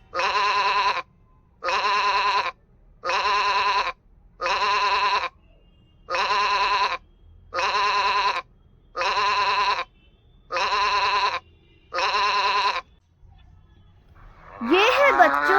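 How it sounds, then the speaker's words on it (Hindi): A sheep bleats nine times in a steady, evenly spaced series, each call loud, close and about a second long, with no talk over it. "ये है बच्चों शीप। शीप को हिंदी में भेड़ कहते हैं।"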